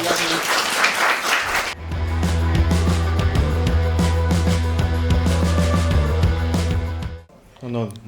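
Applause from a comedy show audience starts after a second of someone speaking and swells into sustained, dense clapping, with a voice breaking in near the end as the clapping fades.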